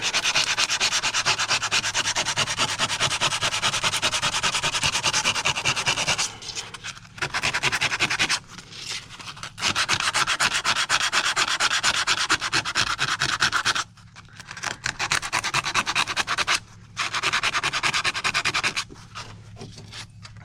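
Hand sanding of wood with coarse 80 grit sandpaper: loud, steady back-and-forth scraping strokes close up, with several brief pauses between bursts.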